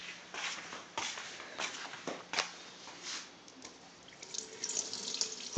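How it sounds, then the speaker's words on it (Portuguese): Water running from a kitchen sink tap at a farmhouse, a splashing, uneven stream close by with faint clatter, heard alone without talk. "Pia, vamos ver se tem água."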